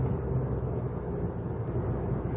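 A Mazda MX-30 R-EV's rotary range-extender engine hums steadily beneath road and wind noise at highway speed, a low, continuous drone with no distinct peaks.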